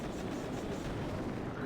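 Doom Cannons fire in the mobile strategy game Boom Beach, a dense barrage of rapid, overlapping booms and gunfire rumbling continuously at a moderate level.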